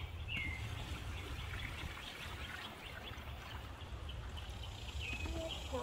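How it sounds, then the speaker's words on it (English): Water is poured into a bucket to mix plaster, producing a steady, close rushing splash that continues evenly throughout at moderate volume. "we are going to take this water and put the water into the bucket first"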